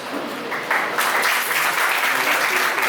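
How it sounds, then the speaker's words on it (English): A school audience at an Independence Day medal ceremony bursts into applause, a dense wash of clapping that swells after a moment and stays loud and steady. "Please give her a huge round of applause."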